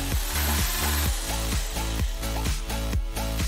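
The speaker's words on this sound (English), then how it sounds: "With an electric drill," An electric drill bores a hole through the middle of a tuna can lid, giving a steady loud whir with a rhythmic grinding pulse repeating about every half second, with no talk.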